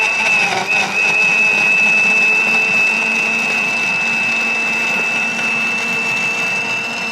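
A kitchen blender whirs steadily at close range as it grinds herbal remedy ingredients for low blood pressure, one continuous loud motor drone with a high whine, running for several seconds before honey is added.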